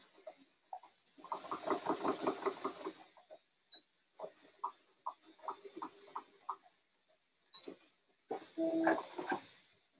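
A sewing machine runs a diagonal stitch on a boy's shirt sleeve in short separate bursts, a fast mechanical clatter that starts and stops several times, close by with quiet pauses between runs.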